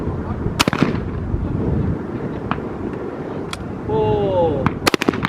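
Several sharp gunshots ring out at an outdoor shooting range, irregularly spaced and echoing over wind noise, with a whistling tone partway through.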